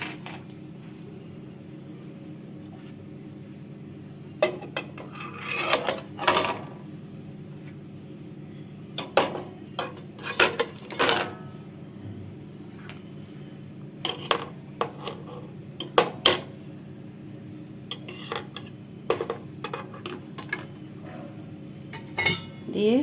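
Metal idli plates set one by one into an idli maker pot with water, a series of sharp clanks and clinks in irregular bursts over a low steady background hum.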